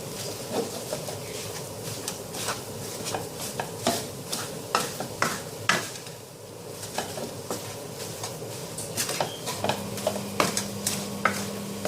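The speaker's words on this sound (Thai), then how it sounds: "ใส่เกลือแล้วก็ตามด้วยกะทินิดหน่อยนะคะเพื่อนแล้วก็ผัดจนแห้งนะคะ" Savory filling for khanom tian stir-fried in a pan with salt and coconut milk, with repeated scraping strokes of a spatula over a soft, steady sizzle, close and fairly quiet.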